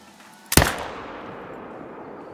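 Single sharp rifle shot at a whitetail deer in a hunting video game, a loud sudden crack followed by a long fading echo tail, alone without talk.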